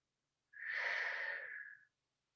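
A single long, deep breath of about one and a half seconds during a Pilates stretch, close and soft, rising and fading smoothly with no talking.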